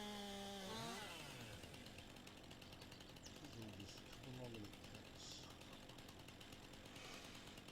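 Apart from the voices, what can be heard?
chainsaw cutting a fence in a farming video game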